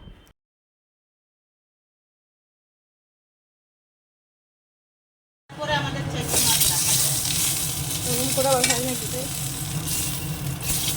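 Bori, small sun-dried lentil dumplings, fry in a pan of oil with a steady, fairly loud sizzle and crackle that begins after about five seconds of silence and keeps going without a break.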